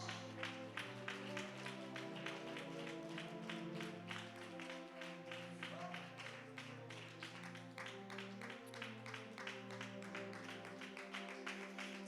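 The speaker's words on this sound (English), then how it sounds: "Give the Lord a hand clap of praise." A church congregation claps in steady rhythm in praise, the sharp, evenly spaced claps ringing out continuously over sustained organ or keyboard chords that fill the room throughout.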